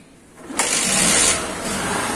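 A Bajaj Discover 110 four-stroke motorcycle that burns oil and has a blown exhaust starts up with a sudden loud burst, then settles into a fast, even, close idle.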